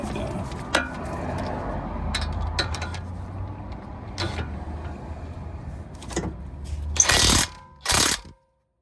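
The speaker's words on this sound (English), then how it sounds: "Gonna take my 21mm with my impact gun and tighten these bad boys back down." An impact gun with a 21mm socket tightens the front brake bolts on a 2012-2019 Volkswagen Passat, with scattered metallic clanks and then two short, loud buzzing bursts near the end, close by.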